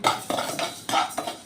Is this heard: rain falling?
no